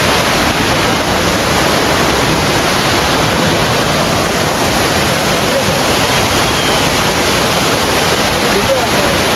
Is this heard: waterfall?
yes